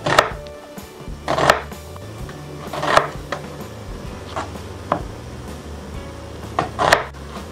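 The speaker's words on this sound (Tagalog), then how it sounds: "Pahaba po muna ang paghihiwa tapos hiwain nyo ng maliliit" A knife chops red onion on a cutting board in a home kitchen, with several sharp, separate knocks at irregular intervals over a low steady background hum and no speech.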